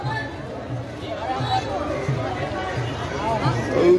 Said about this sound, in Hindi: आओ आओ, भीड़ है भाई।